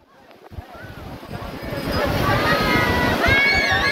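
Ocean waves and surf at Pangandaran beach in West Java, a steady rushing wash growing louder over several seconds, with wind and a few faint tonal sounds over it.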